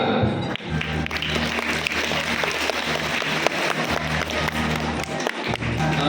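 Applause from a parish farewell gathering for departing priests, a dense, steady patter of many hands clapping close by, continuing without pause.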